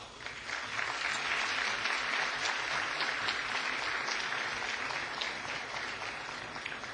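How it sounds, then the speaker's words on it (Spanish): Conference audience gives a speaker warm applause, a steady dense wash of clapping from a hall, moderately quiet and continuous with no voices. "Despedimos al doctor con un fuerte aplauso"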